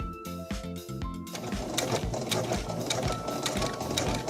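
A sewing machine stitches the hem of a chiffon formal dress, starting with a few short stop-and-go bursts and then running in a steady, fast mechanical chatter up close.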